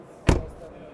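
A frameless door on a Zeekr X shuts once with a solid, close, punchy thud, followed by quiet cabin room tone.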